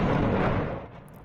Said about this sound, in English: Footage from the Ukrainian city of Kherson appears to show a Russian shelling attack on Friday.